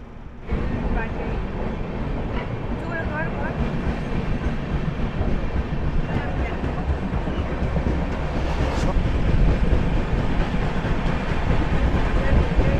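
The 13009 Doon Express rolls at Kudra station with a loud, continuous rumble and faint clickety-clack of wheels on rails, sustained evenly from start to finish.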